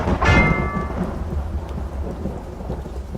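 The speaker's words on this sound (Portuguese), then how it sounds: "Assim que eu escutei o som de um trovão" A loud crack of thunder splits the night during rainfall, then rumbles away under a steady hiss of rain falling on surfaces.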